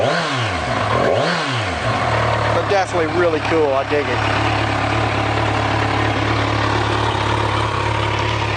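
A brand-new 2014 Kawasaki Z1000 ABS motorcycle gets two quick throttle blips through its exhaust, then settles into a steady, close idle rumble. Someone talks briefly over the middle of the clip.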